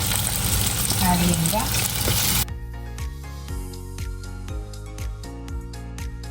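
Ginger and green chilli sautéing in a pan for a Kerala fish mappas curry, a loud dense sizzle at first that drops abruptly, followed by rhythmic scraping stirs with a speaking voice over it.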